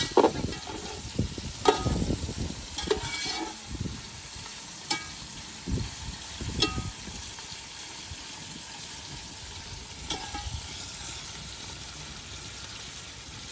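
Onions sauté in a pan for Ambur chicken biryani, making a soft, continuous sizzle that is broken by sharp spatula scrapes and clinks against the pan as they are stirred, with no talking.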